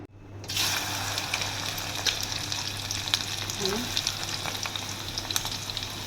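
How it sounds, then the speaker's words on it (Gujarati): Cut okra pieces deep fry in hot oil, a dense, even bubbling sizzle that carries on close and steady throughout, with faint light crackles scattered across it and no talk. "ભીંડાના કટકા કરીને ફ્રાય કરી લઈશું"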